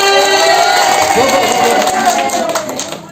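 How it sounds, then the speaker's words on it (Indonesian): Crowd at an Indonesian Independence Day competition event gives a burst of clapping and cheering mixed with background music and chatter, loud and close, tapering off near the end. "Beri tepuk tangan."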